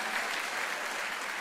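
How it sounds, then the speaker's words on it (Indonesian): Steady applause for God fills an evening prayer service, a brief, dense and even burst of clapping from the gathered worshippers. "Tepuk tangan buat Tuhan kita yang hebat"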